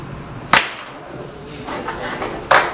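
The clamp of a 3D sublimation heat press machine snaps open with two sharp, loud mechanical clacks about two seconds apart over a steady background hum.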